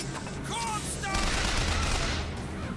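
Rapid gunfire from the first-person shooter BioShock Infinite crackles in a dense, sustained burst of shots lasting a few seconds, loud and close, with faint voices briefly underneath.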